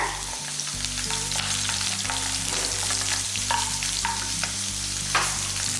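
Shallots and green chilies fry in hot oil for ivy gourd chutney, giving a loud continuous sizzle with occasional stirring scrapes, close and uninterrupted by voices.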